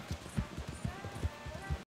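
Hooves of a horse in Red Dead Redemption 2 Online beat a quick, even rhythm of soft thuds, close and clear for a couple of seconds before cutting to silence.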